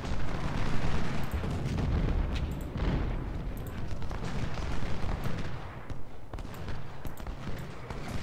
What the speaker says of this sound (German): auf die Distanz können wir zumindest mit der Kanone feuern